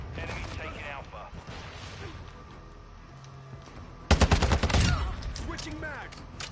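Battle rifle fire in the video game Modern Warfare II, a loud burst of rapid close shots around the middle, with game chatter and talking before and after.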